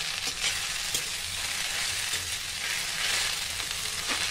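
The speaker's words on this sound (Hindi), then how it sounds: "भिंडी को फ्राई करेंगे, गैस को लो फ्लेम पर कर देंगे और इसको 5 मिनट तक इस तरीके से फ्राई करेंगे।" Okra (bhindi) frying in a pan over a low flame, a steady hiss of sizzling oil with faint scraping stirs, close and even throughout with no voices.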